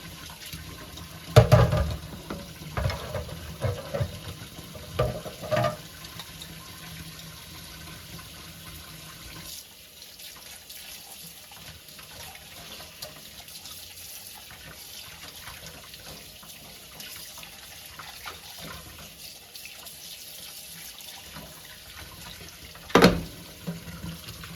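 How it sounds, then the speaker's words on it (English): Water runs quietly and steadily from a tap for a long stretch while orchid roots are washed with soap and water, with occasional louder splashes and clunks near the start and end. "I think I'm just going to use soap and water."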